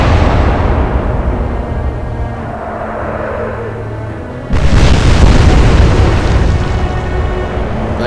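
Heavy naval gunfire in the Atlantic Fleet naval warfare game, Royal Navy against Kriegsmarine: a low rumbling backdrop gives way to a loud, sudden boom and sustained crashing explosion that roars on for several seconds.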